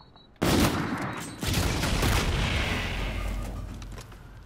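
A loud, close sniper rifle shot in Call of Duty: Infinite Warfare booms out suddenly after a brief quiet, followed by a second heavy report and a long rumbling, echoing tail that slowly fades.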